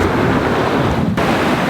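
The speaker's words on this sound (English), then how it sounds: "I want a really good wave at the moment" Ocean surf at a coastal landscape spot before sunrise, a steady broadband roar of breaking waves with wind buffeting the microphone throughout, loud and close, with a brief dip near the end.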